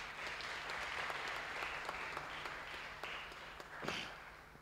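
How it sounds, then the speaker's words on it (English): Faint, steady applause from a church congregation after Sunday school plays and presentations, a soft continuous rustle of many hands with a few sharper claps, heard at a distance. "Let's have another round of applause."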